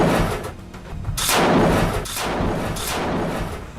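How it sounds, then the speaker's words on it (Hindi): Hamas rockets launch from the ground in the Israel–Hamas war, one after another, as three heavy roaring blasts that surge and fade in quick succession against a rumbling background. "जमीन से एक के बाद एक कई रॉकेट फायर होते हुए दिख रहे हैं"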